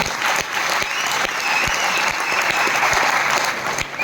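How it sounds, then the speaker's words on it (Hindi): Loud, dense applause from a seminar audience at a Vestige business event, continuous hand clapping that fills the room with a few sharper individual claps standing out, no speech over it. "बाली सर, जोरदार तालियां होना चाहिए आपके लिए।"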